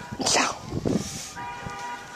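A puppy out in blizzard snow gives a couple of short, sharp yips and barks close by, followed by a faint whine, in an otherwise quiet cold setting.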